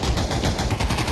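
Rapid automatic gunfire from the video game Pavlov during a Pavlov Champions League tournament match, a dense continuous burst of shots filling the whole moment at close range without any voices.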